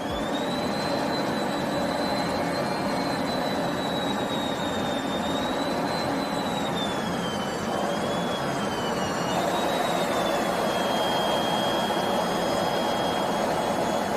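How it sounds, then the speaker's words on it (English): Steady, loud aircraft engine roar inside a cockpit, flying right beside another plane, with a high sustained whine that wavers slightly in pitch over the continuous drone; no voices. "This person was filming out of the cockpit while flying right next to another plane."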